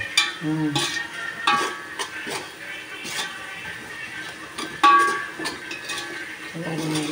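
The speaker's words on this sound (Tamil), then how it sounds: "நல்லா கோல்டன் ப்ரௌன், கோல்டன் கலரில் வெங்காயம் வதக்கணுமா?" Onions sautéed toward golden brown in a pan for Tirunelveli-style mutton biryani, with a soft sizzle under repeated stirring scrapes and occasional utensil clinks, and a voice talking intermittently in the background.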